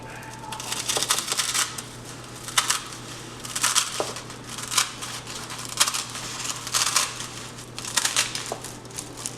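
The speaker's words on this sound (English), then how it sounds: "let's cut the nori into two" Scissors snip through a thin, crisp sheet of dried nori seaweed, giving a series of close, crackly cuts and crinkles at an irregular rhythm.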